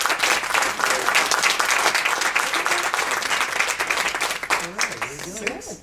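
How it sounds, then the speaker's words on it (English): Audience applause at a regional business meeting, dense and loud, sustained across the room with voices and cheers rising toward the end. "Y'all give her a round of applause, please."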